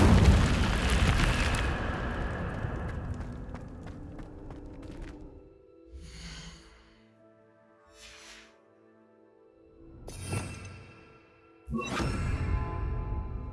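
Incendio fire spell cast in Hogwarts Legacy: a loud roaring burst of flame that fades over a few seconds, followed by scattered softer whooshes and a couple of sharper bursts later, with no voices.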